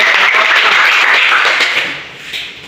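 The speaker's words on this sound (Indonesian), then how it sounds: "Ya, tepuk tangan." Classroom audience clapping after a student group's presentation on sujud syukur, a steady dense patter of many hands that thins and fades toward the end, heard alone without voices.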